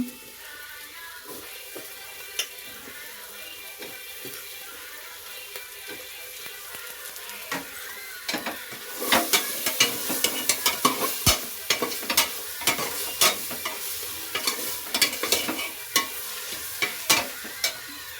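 Soybeans stir-fry with masala in a pan, a soft sizzle that grows busier halfway through as repeated scraping and stirring clatter comes in close and irregular.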